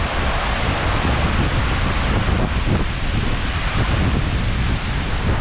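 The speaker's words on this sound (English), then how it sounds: "The wind's trying to take my hat off." Strong wind gusting across an open hiking trail in northern Washington, a loud continuous roar of buffeting noise on the microphone.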